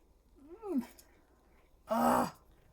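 A cat meows twice during crafting of a Halloween card, the first a rising-falling mew and the second a louder, broader cry about a second later, both close and clear over a quiet room.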